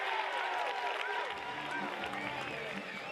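A college baseball crowd at Clemson cheers and applauds during the seventh inning, a steady wash of shouts and clapping with broadcast commentary faintly under it.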